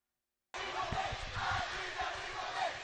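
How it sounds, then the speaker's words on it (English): Home crowd at a high school boys' varsity water polo game, Princeton at Sycamore, roaring and shouting steadily after near silence, a dense, loud wall of cheering voices that swells and holds throughout. "The home crowd has gone wild after this new revelation that they are only up 2 goals with 1:40 left"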